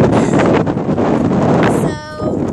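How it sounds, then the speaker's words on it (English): Strong outdoor wind buffets the microphone, a loud, rough, continuous roar that dips briefly near the end. "Whoa, super windy."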